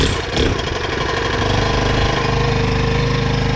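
Makita concrete saw engine running steadily with a little throttle, a loud, close, continuous buzzing drone with a slight rise just after the start.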